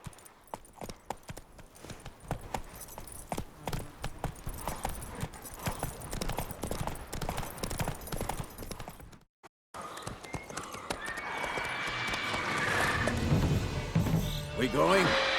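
Hooves of Roach, a horse in The Witcher 3 video game, clip-clop steadily at a walk for most of the stretch, then cut out briefly before a denser, louder burst of game noise takes over.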